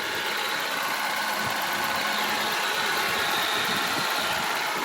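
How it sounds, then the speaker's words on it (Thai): A used manual-gearbox Toyota car engine idles steadily at low volume, a constant hum and rattle with no talking over it. "เครื่องยนต์เดินนี่เลยนะครับผม"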